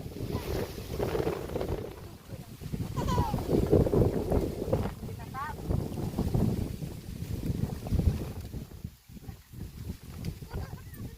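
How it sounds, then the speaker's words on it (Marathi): Steady wind gusts by a river during riverside net fishing, a continuous roaring rush close on the microphone that persists throughout, with voices talking under it. "हवा सुद्धा इतका सुटलाय ना"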